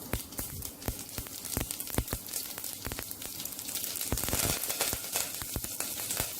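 Curry leaves dropped into hot oil with mustard seeds for brinjal sambar, a close crackling sizzle dotted with sharp pops and spatters that swells toward the end, no voices.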